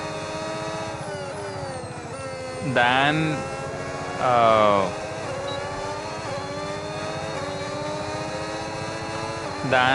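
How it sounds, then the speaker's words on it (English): Racing Bulls F1 car in the F1 26 racing game, a steady high engine whine with two short sharp rising revs partway through; a voice briefly talks over it. "The Racing Bull's car definitely sounds like it's more towards the battery side"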